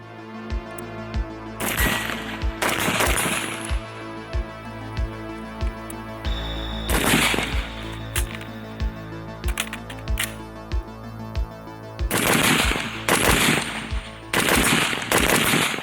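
An M16A2 rifle fires several bursts of sharp, loud shots outdoors, spaced apart by pauses, with quieter mechanical clicks and handling noise between them.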